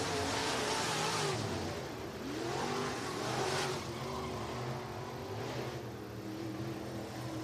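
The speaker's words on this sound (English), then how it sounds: "Down the back straightaway. Still that 9 machine of Hartwig, followed by Murdy and Roseborough. They'll come off at turn number 4" Dirt track race cars roar around a Florida speedway oval toward the checkered flag, a dense continuous engine drone with rising and falling revs, steady and loud with no voice over it.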